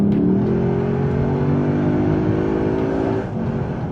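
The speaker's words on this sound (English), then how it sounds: "So wide open throttle with the valves closed." A Lexus IS F V8 with a valved aftermarket exhaust, valves closed, revs hard at full throttle, a loud continuous roar with rising harmonic tones, heard from inside or very near the car.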